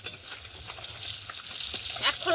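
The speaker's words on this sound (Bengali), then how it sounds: "এক খোলা মাছ ভাজা হয়ে গেছে," Fish frying in an open pan in a Bengali home kitchen, a steady soft sizzle and crackle with a few brighter spits, close and fairly quiet, no one talking.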